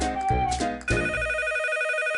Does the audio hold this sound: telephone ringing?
yes